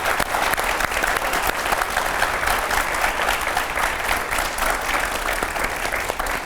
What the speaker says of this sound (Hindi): जोरदार तालियों के साथ स्वागत करिए